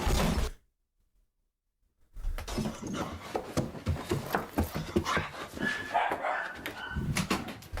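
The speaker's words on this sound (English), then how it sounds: "Dogs are barking." Dogs bark, pant and whimper close by in a dim storage room, a dense run of yelps and barks after a brief silent gap, loud and continuous.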